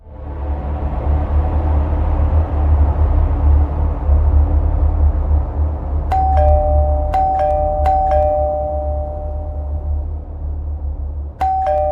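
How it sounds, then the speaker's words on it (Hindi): A doorbell rings late at night, several bright dings beginning partway through and repeating at irregular intervals over a loud, low rumbling background drone. "इतनी रात में डोरबेल कौन बजा रहा है?"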